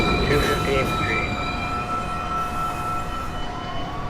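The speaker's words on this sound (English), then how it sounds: "Downtown Local 1 train. Approaching the station, please stand away from the platform edge." A New York subway downtown local 1 train approaches a station platform with a steady rumble and sustained high metallic whining tones. A voice can be heard over the noise.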